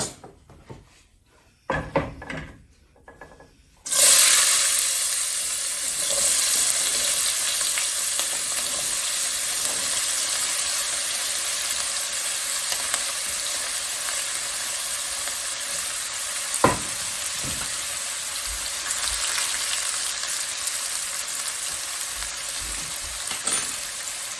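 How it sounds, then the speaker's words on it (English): Onions sautéing in a pan start with a sudden loud sizzle after a few seconds of quiet handling noises, then keep up a steady, close frying hiss with occasional light clinks. "we're going to start sauteing up our onions"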